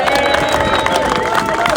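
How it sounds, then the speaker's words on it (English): Warm audience applause greets a hospitality speaker at a farmers' rally in Liverpool, a loud dense wash of clapping with cheering and crowd babble mixed in. "Give him a warm round of applause"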